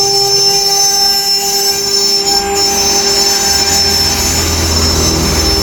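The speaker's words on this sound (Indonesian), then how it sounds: "Pakai milling router." Loud, steady whine of a milling router cutting plywood of about 18 mm for making boxes in a workshop, with sustained high tones and a low rumble rising near the end.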